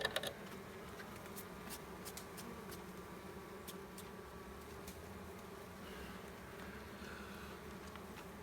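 A bee buzzes close by, a steady droning hum with a few sharp ticks as it bumps around, fairly faint overall.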